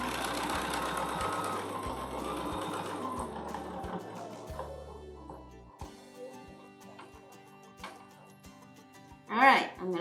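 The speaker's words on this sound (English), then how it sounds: "Stitch out to the outer stitches." Sewing machine stitching a block design in bursts of rapid needle chatter that slow and stop midway, followed by quieter handling sounds and a brief louder rustle near the end.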